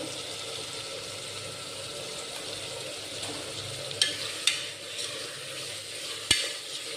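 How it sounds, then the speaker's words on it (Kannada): Turmeric and salt masala fries gently in oil for egg biryani, a soft steady sizzle with occasional sharp spoon scrapes and taps against the pan near the end, fairly quiet and close. "ಸ್ವಲ್ಪ ಎಣ್ಣೆ ಬಿಟ್ಕೊಳ್ಳೋವರೆಗೂ ಫ್ರೈ ಮಾಡಿ."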